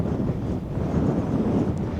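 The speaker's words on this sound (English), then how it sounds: "it is quite the windy day today." Strong wind on a windy day at a hillside lookout during an e-scooter ride roars steadily across the microphone, a loud continuous low rumble with gusty fluctuations and no voices.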